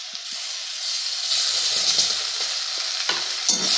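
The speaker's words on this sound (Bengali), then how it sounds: "এবার আমি বেটে রাখা মশলাটা উচ্ছে আলুর মধ্যে দিয়ে দেবো।" Ground spice paste is stirred into bitter gourd and potatoes frying in a pan: a continuous hissing sizzle with scraping, clattering stirring strokes close up, and no voices.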